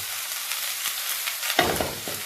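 Vegetables for sambar, including French beans, potato, raw banana, onion, green chillies, tomato and drumstick, sizzle steadily in hot oil, a close, even hiss with a soft stir or clatter near the end.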